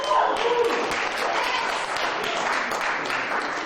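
Audience applause at a stand-up comedy show, a short dense burst of clapping that stays fairly steady and moderately loud for a few seconds, with some voices mixed in.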